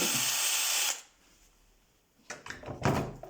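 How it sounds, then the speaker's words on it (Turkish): A power drill whirs loudly for about a second while boring into a wooden board, then stops; after a short quiet, clattering and handling noises follow. "tahtayı inciltmek için içine bir matkapı gönderiyorum"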